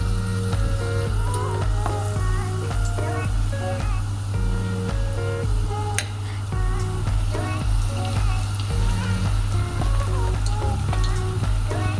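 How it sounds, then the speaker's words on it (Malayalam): Batter-coated marinated chicken pakoda pieces deep-frying in hot oil over a low flame, a loud, dense, continuous bubbling sizzle heard up close. "ചൂടാ എണ്ണയിൽ ഇട്ട് വറുത്ത് കോരാം."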